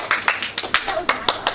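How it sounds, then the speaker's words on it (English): A small group claps after a primary school honours presentation, producing a quick run of about nine close, sharp handclaps in a steady rhythm. "Let's give him a clap."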